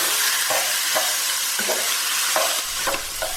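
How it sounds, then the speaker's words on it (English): Pork mince sizzles in a pan with spice paste for an Asian pork and green bean stir-fry, a constant close frying hiss broken by regular scraping stirs roughly every half second. "So it's time now for my pork mince to go in."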